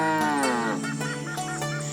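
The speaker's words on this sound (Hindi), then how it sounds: "और भोला अपनी दोनों भैंसों और रोटियों का थैला लेकर जंगल की ओर जाने वाले रास्ते पर चल पड़ा।" Buffalo lowing in an animated Hindi horror story, a long, loud, drawn-out moo with rich harmonics filling the whole moment, close and alone.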